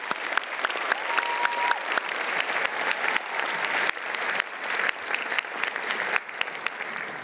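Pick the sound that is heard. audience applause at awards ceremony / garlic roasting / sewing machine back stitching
audience applause at awards ceremony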